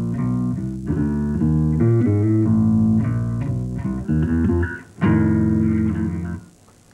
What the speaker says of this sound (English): And at the front of the bass, you get a real bassy sound.